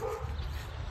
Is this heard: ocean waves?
no